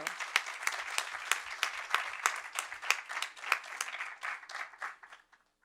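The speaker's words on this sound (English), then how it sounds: "Audience, let's celebrate with another round of applause" Audience applause fills a board meeting room, a dense patter of many hands clapping. It holds steady for several seconds, then thins and dies away.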